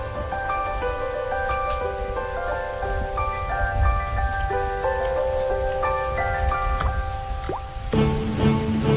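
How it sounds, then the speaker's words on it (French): Rain comes down steadily, with a constant patter and drips layered over a dense wash of noise, loud and close throughout. "Il mouille jour et nuit."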